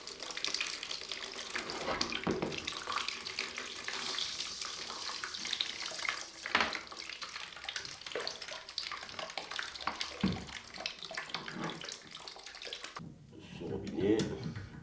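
Water draining from a tap on a home heating system while a towel-rail radiator is being removed, a steady faint rush and splash running throughout with small knocks and brief handling noises.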